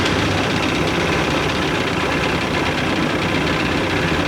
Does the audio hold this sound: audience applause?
no